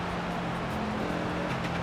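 Race car engine droning steadily while lapping NHMS in a racing game, a constant mid-level hum with no talking over it.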